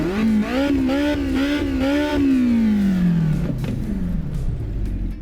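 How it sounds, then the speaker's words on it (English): Alfa Romeo Giulia GTA engine in the AC EVO racing game revs hard in several quick rising bursts, then holds a long high note that slowly winds down, loud and close with no talking. "Let's rev it up a little bit."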